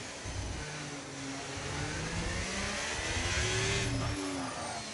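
A Ferrari race car in a racing video game revs and accelerates, its engine note climbing and wavering through a few seconds of steady, moderately loud drive.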